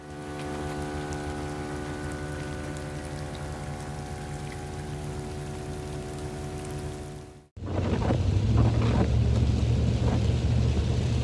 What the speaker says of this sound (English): Nothing like airing up in a downpour. It is pouring.